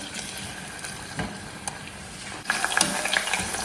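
Shredded onion frying in hot oil gives a continuous hiss and sizzle with scattered crackles, growing busier and louder toward the end, close up with no voices.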